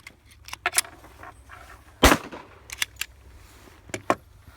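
A 9mm pistol is fired at a shooting range, one sharp loud report standing out among several fainter, more distant shots and clicks.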